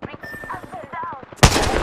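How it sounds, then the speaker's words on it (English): Video game gunfire, a rapid burst of automatic shots followed by a loud blast, with game voice lines playing over the shooting. "They're shooting at me."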